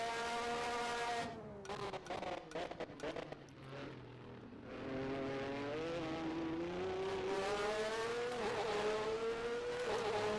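A 1988 Formula One car in the rFactor 2 racing game at the Italian round, its engine screaming near full throttle with a brief stuttering lift mid-clip before pulling hard again, pitch climbing steadily through a long, loud wail.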